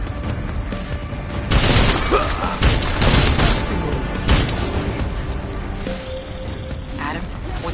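Sustained gunfire and explosions from the video game Deus Ex: Mankind Divided, a dense, loud barrage of shots, booms and crashing impacts that fills the whole stretch with a game voice mixed underneath.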